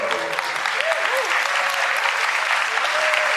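Loud applause and cheering from a convention audience at a Star Trek panel, a continuous dense clapping wash with a few whistles rising over it.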